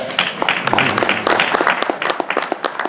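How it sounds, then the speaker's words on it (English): Applause from a keynote audience at an education conference, a dense, steady patter of many hands clapping close by for the full stretch, with faint voices mixed in. "I want to give you a round of applause for that."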